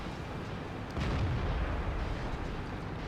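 A tank cannon in World of Tanks fires a single deep boom about a second in, over a constant low rumbling game background, moderately loud with no speech.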